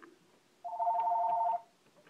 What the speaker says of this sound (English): And there goes the phone again.